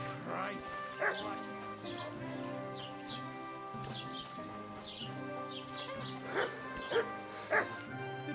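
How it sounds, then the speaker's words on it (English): A dog in the medieval video game Kingdom Come: Deliverance 2 barks, yips and whimpers repeatedly over steady game ambience and birdsong, fairly loud and close, with a voice talking over it. "This is just dog. Dog is kind of loud."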